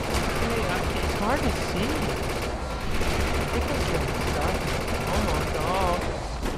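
Rapid gunfire from a video game, Defiance 2050, runs as a dense, continuous burst of shots throughout, with someone talking over it.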